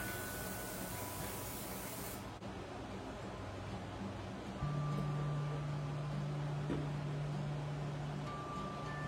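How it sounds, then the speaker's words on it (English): Cooking spray hisses onto baking pans in a continuous burst of about two seconds, close and fairly loud, followed by a quieter room with a steady appliance hum. "I just realized that I didn't spray those pans."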